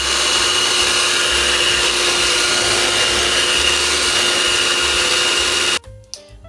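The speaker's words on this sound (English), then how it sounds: "I'm going to take my hand mixer and I'm just going to mix everything until it's well combined" A hand mixer whirs steadily through pumpkin cupcake batter, a loud close motor hum with a faint rhythmic wobble, then cuts off abruptly near the end, leaving a few light knocks.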